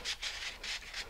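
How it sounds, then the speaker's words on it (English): A wooden model lander leg is sanded by hand, making soft, rhythmic rasping strokes of about four or five quick back-and-forth passes, close and fairly quiet, with no talking. "if not, just sand them down like I'm doing here"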